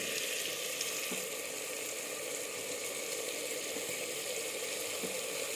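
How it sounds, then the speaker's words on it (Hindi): Chopped tomato going into a hot frying pan gives a steady, even sizzle of frying that runs through the whole stretch, with a few faint clinks in the background and no talking. "मैं एक टमाटर भी काट के डाल रही हूँ।"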